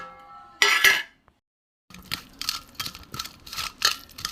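A gram flour batter with coriander, cumin and chili powder is mixed in a bowl for fish fry. A short clatter comes first, then after a silent gap a run of close, rhythmic scraping and clinking strokes.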